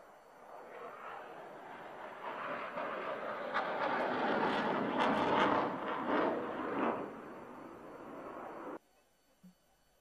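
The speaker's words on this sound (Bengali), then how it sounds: "সুপ্রিয় দর্শক মণ্ডলী, আপনারা দেখতে পাচ্ছেন after burner turn by MiG-29।" A MiG-29 fighter jet in an afterburner turn at an aerobatic air show: a broad, roaring rumble that swells to a loud peak and then fades before cutting off.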